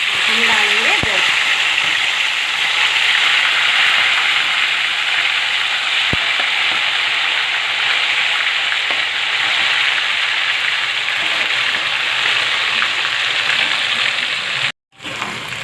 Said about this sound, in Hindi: तेल अच्छे से गर्म हो चुका है। इसमें हम डालेंगे गोश्त।